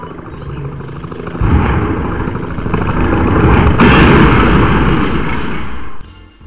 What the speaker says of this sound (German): Kann mich nicht erinnern, Helikopter gehabt zu haben.